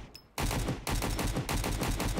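Gunfire in a survival video game: after a brief quiet moment, loud rapid automatic bursts ring out close by, with a short break midway.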